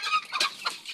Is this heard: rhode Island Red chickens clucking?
yes